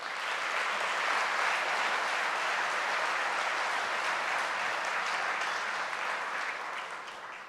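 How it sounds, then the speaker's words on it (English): Steady round of applause from an awards-event audience honoring alumni volunteers, a dense even clapping texture at moderate distance that fades slightly at the close. "Please give a round of applause to these outstanding volunteers."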